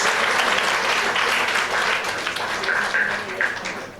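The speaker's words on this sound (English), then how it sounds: "Let's have a thunderous round of applause for yourself, because you are really unsung heroes." A crowd of teachers at an event applauds loudly, a full, sustained round of clapping with a few voices rising over it before it begins to taper.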